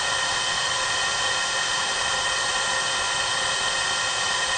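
A small engine fed on wood gas from a Charlek gasifier runs at a steady, continuous drone with a loud broadband hiss and hum, unchanging and close, with no voices over it.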